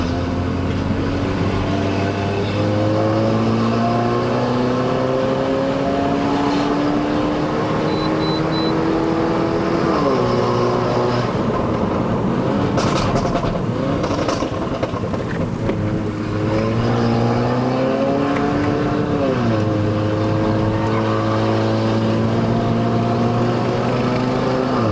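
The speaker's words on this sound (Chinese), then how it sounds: "这辆车很容易可以直接full throttle" A Mercedes-Benz W176 A180 pulls hard at full throttle up the Genting hill road in Malaysia. Its engine note climbs steadily, then dips at each gearshift around the ten- and nineteen-second marks, loud and continuous with no talk.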